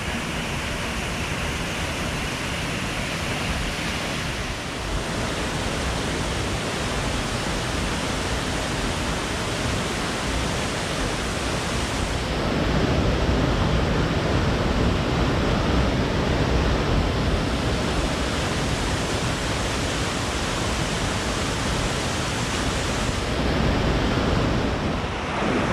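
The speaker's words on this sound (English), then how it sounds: "And it ends in a beautiful waterfall." Steady, broadband rush of falling water from a waterfall at the Termas Geométricas hot springs near Pucón, Chile, constant and fairly loud throughout with no voices, heard up close.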